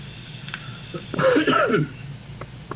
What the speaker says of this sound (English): my cough's terrible now